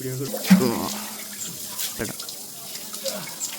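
Running water splashes and trickles steadily into a fish tank, with a brief voice-like tone near the start.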